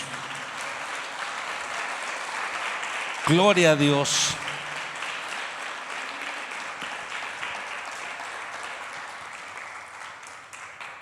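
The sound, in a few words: church congregation applause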